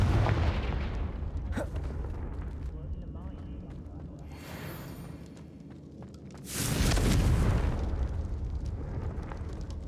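In the video game Hogwarts Legacy, the Confringo spell detonates with a loud, sustained blast about two-thirds of the way in, following a stretch of softer rumbling game ambience.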